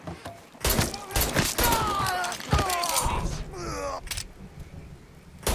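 Bursts of gunfire and impacts in the Mafia 3 video game, a dense run of shots with groans and thuds under shouted voices.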